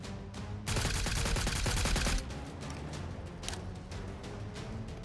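Gunfire in Metro Royale, a mode of a battle royale shooter: a dense burst of rapid automatic fire, then scattered single shots spaced out, fairly faint and distant, no talking.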